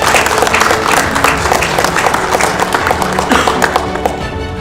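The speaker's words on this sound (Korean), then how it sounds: "박수로 축하해 주시기 바랍니다" An audience at an award ceremony for civic medals bursts into loud, dense, sustained applause that fills the room steadily for several seconds before easing off slightly at the end.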